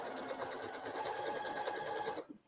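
A sewing machine runs steadily while stitching quilt points, a continuous rapid mechanical whir with fast regular needle clatter that stops abruptly near the end, fairly quiet and close.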